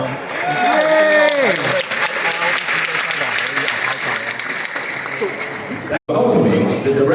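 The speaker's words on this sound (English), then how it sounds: "offer a big round of applause from everyone" Audience applause at a Lantern Festival dinner held by the Toronto Taiwanese and Hong Kong community, loud and sustained, with a voice speaking over it, a brief cut near the end and then more clapping.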